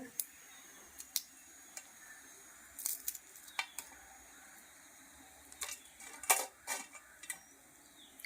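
Bitter gourd slices fry crisp in hot oil with a soft, steady sizzle, broken by sharp clicks and scrapes of a utensil against the pan at intervals.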